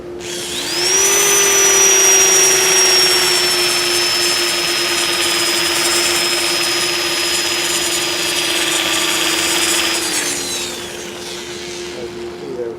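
A loud electric drill spinning a sander on a walnut platter whines steadily at high speed for about ten seconds, then spins down, with a coarse grinding hiss underneath.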